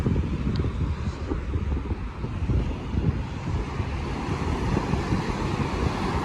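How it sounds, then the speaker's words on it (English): Ocean surf rolls onto a beach at Punta Cana in the Dominican Republic, a steady broad wash of waves heavily mixed with gusting wind buffeting the microphone, continuous and fairly loud with no talking. "Check out the waves here."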